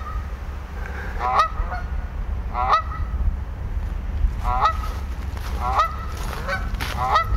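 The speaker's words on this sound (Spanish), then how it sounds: "nos topamos con una parvada de gansos salvajes que están listos para hacer su interpretación" A flock of wild geese honks in repeated bursts, several overlapping calls every second or so over a low steady background rumble, fairly close and clear.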